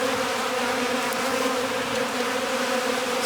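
Honey bee drones feeding on honey left out in the open, a dense continuous buzzing of many bees close to the microphone, steady and loud with no talking.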